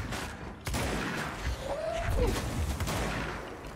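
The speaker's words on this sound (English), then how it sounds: "this shotgun really deals some damage on short range" Shotgun blasts in the video game Control, a sharp broadband report near the start followed by game ambience and a brief sweeping effect, fairly loud and without talk.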